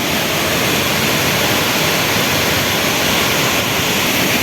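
Steady, full-bodied roar of Mae Klang waterfall at Doi Inthanon, Thailand, loud and close, with constant rushing water and no pauses or voices.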